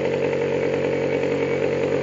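Aeronca light aircraft engine running steadily and loud at close range, a continuous even buzzing drone with no clear rise in pitch and no talking.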